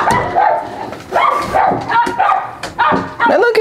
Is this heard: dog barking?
yes